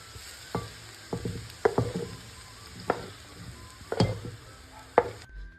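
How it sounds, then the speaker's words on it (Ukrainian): Mushrooms frying in oil in a pan, a steady sizzle broken by several sharp stirring scrapes and taps of a utensil, close and clear with no voices. "Продовжуємо смажити гриби до золотистого кольору."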